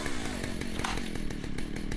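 A chainsaw with a pushed-in choke and a badly adjusted carburettor sputters and buzzes close by, a steady gritty rattle with small pulses, heard alone without voices.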